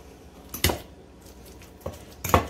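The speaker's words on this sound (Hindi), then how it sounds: "तो अच्छी तरह हमने मैश कर लिया" Ripe avocados mashed for guacamole, a utensil knocking against a bowl in two sharp, close clinks with quiet pauses between them.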